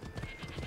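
Horse hooves clip-clop in Assassin's Creed as a mount trots behind a running character, a quick steady beat of soft thuds close by, with a faint game hum underneath.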